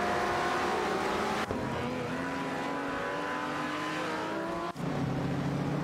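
Racing game cars, a Lamborghini 400 GT and a TVR Griffith 200 among them, hold a steady loud engine drone with shifting pitch, broken by two brief gear-change dips.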